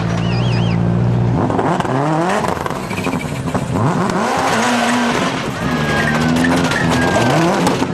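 A rally car with a damaged wheel drives a stage at the 2002 Rally Deutschland, with a loud, close engine revving and shifting pitch through corners alongside tire noise and skidding throughout.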